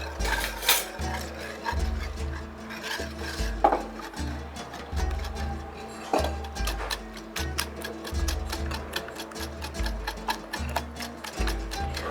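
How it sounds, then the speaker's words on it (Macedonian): Flour, baking powder and semolina being mixed for a cake, a steady rhythmic scraping and clinking of a utensil against a bowl, repeated stroke after stroke, close and moderately loud. "Јас за тоа време ќе ги мешам брашното, пецивото и гризот."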